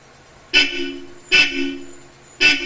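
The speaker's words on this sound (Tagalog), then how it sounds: "Ito na yung busina niya, no? Naka-install na 4 na Bosch Europa" Three loud, short blasts from four Bosch Europa horns fitted to a 2024 Ford Ranger Wildtrak, at regular intervals, close by and piercing.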